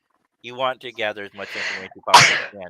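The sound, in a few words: sneeze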